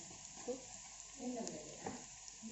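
Hand-ground and blended chili fries in a pan for a green-chili duck dish, a soft, fairly faint sizzle with occasional stirring scrapes and a trace of distant voices.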